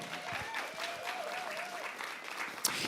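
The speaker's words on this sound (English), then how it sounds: "Applaud yourselves." An indoor audience at a live event in a theater center applauds steadily, a soft, even patter of clapping with faint voices mixed in.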